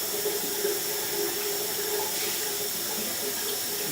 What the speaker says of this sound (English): You see the water's rinsing very well